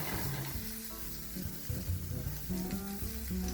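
Garlic and onion sizzle and fry in a hot pan for a Peruvian pollo saltado, a steady close crackle with clinks of stirring and no voices.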